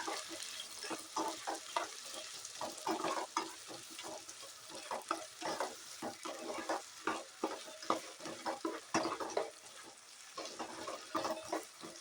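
Small cubes of carrot and potato sauté in a pan for vegetable pulao, a soft steady sizzle under repeated scraping strokes of a spoon, close and moderately quiet with no voices.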